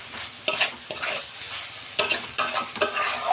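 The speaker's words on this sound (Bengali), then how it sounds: "আমি 2 মিনিট কষে নেব।" Soybean chunks and potatoes are stir-fried in a pan, with a steady close sizzle and repeated scraping stirs at irregular intervals, no voices.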